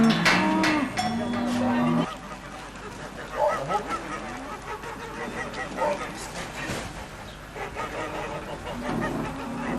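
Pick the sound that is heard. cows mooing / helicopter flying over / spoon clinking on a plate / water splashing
cows mooing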